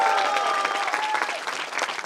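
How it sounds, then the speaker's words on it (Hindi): Loud, dense applause from a crowd, steady clapping filling the whole moment without any talking. "एक बार कविता के सम्मान में आप लोग जोरदार तालियां बजा दें।"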